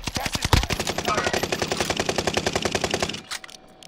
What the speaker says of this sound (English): They're getting shot from both sides.